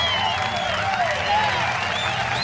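Crowd applause and cheering in a Roblox Chuck E. Cheese birthday show, brief and steady clapping under warbling music tones, ending with a rising sweep.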